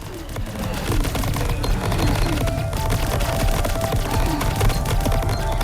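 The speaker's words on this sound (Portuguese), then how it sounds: "dá uma explosão ao redor, uma explosão em área." Loud, continuous barrage of rapid shots and crackling blasts from an area explosion attack in the video game Greedland, dense and unbroken for several seconds.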